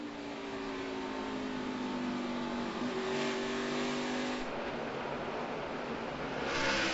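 A NASCAR Sprint Cup race car engine at the 2014 Camping World RV Sales 301 drones, easing off and rolling back onto the throttle with shifts in pitch, heard at a distance under crowd-like broadband noise.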